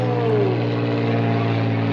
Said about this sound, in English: Airplane passing over.